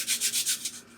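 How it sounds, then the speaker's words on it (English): A small sanding block, about three inches wide with sticky-back sandpaper, rubs across a wooden guitar part in a workshop, making a quick series of close, even, hissing strokes in one short burst. "So I'm just going to grab a sanding block."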